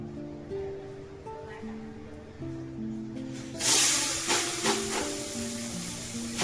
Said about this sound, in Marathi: तेल टाकूया आपण तवा आपला गरम झालाय